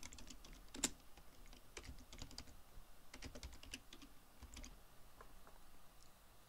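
A computer keyboard on a Windows 7 PC is typed in quick, irregular bursts of light clicks, with one sharper click early on and a quiet hum underneath, with no talk.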